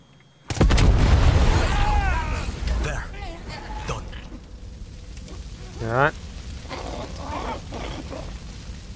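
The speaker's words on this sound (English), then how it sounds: "you're just shaking these explosions off like it's nothing" A sudden loud boom bursts in and rumbles away, followed by scattered crackling debris and a second smaller blast, with voices faintly underneath, in the video game Far Cry 6.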